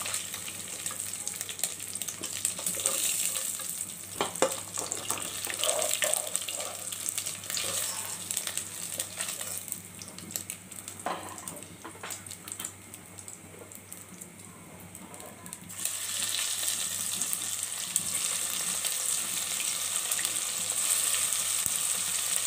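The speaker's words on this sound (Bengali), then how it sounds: "তবে মিডিয়াম আঁচে ভাজবেন মাংসগুলো, তাহলে খেতে স্বাদ লাগবে।" Chicken tikka pieces fry steadily over medium heat in a pan, giving a continuous close sizzle and crackle with occasional stirring scrapes and no talking.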